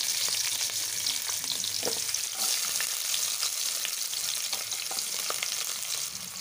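Mustard seeds and cumin sizzle in hot oil with a dense, continuous crackle and a few sharper pops, close and loud, with no voices.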